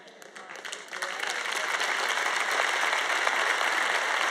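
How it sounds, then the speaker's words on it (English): An audience claps steadily, the applause building from scattered hands into a full, sustained round that continues without pause. "Your clapping's getting a little weaker this afternoon."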